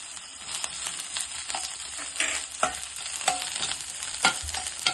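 Grated coconut and onion fry in a pan for sambar, with a steady sizzle broken by repeated scraping stirs that form sharp bursts. No one speaks, and the cooking sounds sit close and moderately loud.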